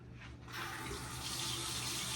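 Tap water running into a sink while someone washes their face, a steady close hiss that starts abruptly and keeps flowing at an even level.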